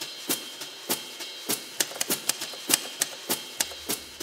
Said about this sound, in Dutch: waardoor Leo Sanders uit Nijnsel geïnteresseerd raakte in de techniek van de oude typemachine